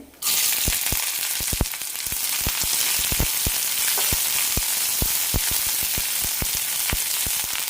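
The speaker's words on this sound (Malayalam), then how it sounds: "ചെറിയുള്ളിക്ക് ലൈറ്റായിട്ടൊരു ഗോൾഡൻ കളർ വരണം" Loud, steady sizzling of chopped shallots frying in oil, with scattered crackles and pops throughout and no voices.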